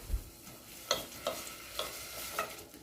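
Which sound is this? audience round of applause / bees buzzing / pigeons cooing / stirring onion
stirring onion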